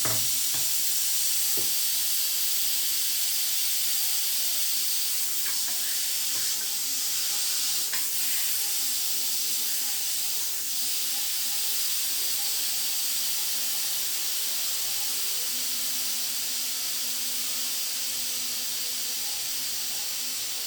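A pressure cooker releasing steam in a home kitchen while cooking urad dal with tomato, a steady loud hiss that continues unbroken, with faint clinks in the background.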